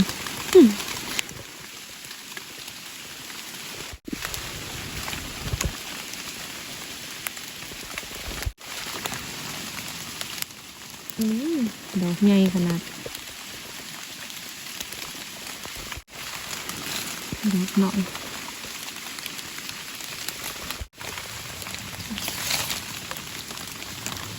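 Steady rain patters through a forest during mushroom picking, a soft continuous hiss with occasional brief rustles and faint knocks close by, no talking.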